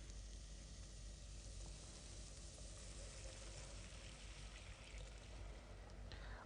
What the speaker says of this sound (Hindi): इसमें डालें प्याज और इसे थोड़ा सा सौते करने के बाद